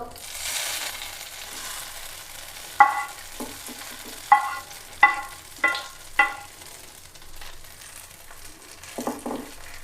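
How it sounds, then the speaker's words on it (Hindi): Hot oil with onion tempering sizzles softly over beef haleem while a spoon clinks and scrapes several times against a pot, sharp taps standing out over the low frying hiss. "हलीम पावन तो बाद असां उत्ते लेने प्याज दा तड़का।"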